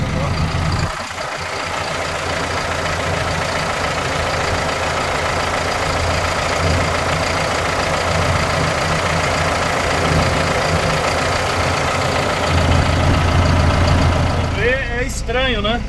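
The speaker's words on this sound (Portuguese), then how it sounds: "Barulho de 4 cilindros." A Valtra BH154 tractor's four-cylinder engine idles with a steady, loud, low rumble throughout, and a few brief high chirps come near the end.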